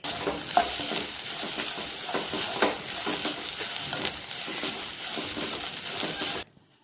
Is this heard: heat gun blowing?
no